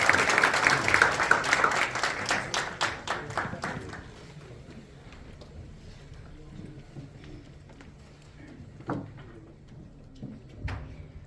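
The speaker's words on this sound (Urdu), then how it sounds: "آپ کی بھرپور تالیوں میں" An audience at a university lecture gives loud, dense applause that fades out after a few seconds, leaving a quieter hall with scattered sounds.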